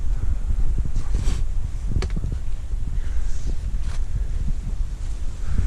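Steady wind blows outdoors beside a sheltering rock wall up on a valley ridge, a constant low rush with soft rustling and occasional gusty flutters close to the microphone, no voices.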